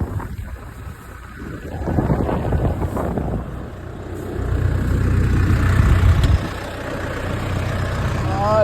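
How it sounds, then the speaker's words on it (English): Wind buffets the microphone in a steady low roar, rising and falling in gusts, with a corn-drying motor rumbling underneath and faint voices. "Oh, it's a windy day."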